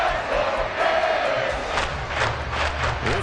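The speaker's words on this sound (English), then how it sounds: "This crowd turning up the decibel level." A football stadium crowd at a Jets versus Dolphins game roars and swells louder late in the game, a dense, continuous wall of cheering with rising shouts, and no clear voice above it.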